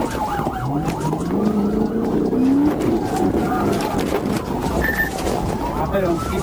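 A police car in high-speed pursuit is heard from the dashcam: road and engine noise fills the clip while a siren wails and warbles beneath it, and a voice speaks over the chase.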